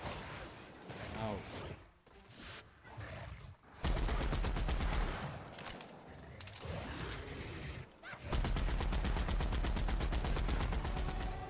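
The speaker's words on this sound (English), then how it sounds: "Listen to that thud thud thud of that thing. It's glorious." Heavy automatic gunfire from a weapon in the sci-fi shooter The Outer Worlds, loud dense bursts that cut in and out with a voice speaking between them.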